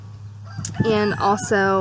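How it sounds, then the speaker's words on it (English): Chickens being given their first bath ahead of a fair squawk and cluck loudly up close in harsh, crowing bursts, with a person speaking briefly underneath. "So if you hear some crazy noises in the background, it's because these chickens have never had a bath before."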